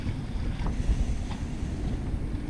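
Gale-force wind buffets a sailboat riding at anchor off Lanai, Hawaii, a steady loud roar of gusts and microphone wind noise with the low rumble of water and waves against the hull throughout.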